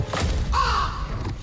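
A single crow caws once, fairly close and loud, drawn out over a second amid a dim, murmuring background in a Hindi television drama scene.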